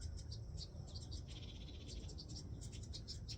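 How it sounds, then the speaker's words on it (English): Faint, distant birds chirp in short, repeated calls outdoors over a low background rumble. "Those are other birds."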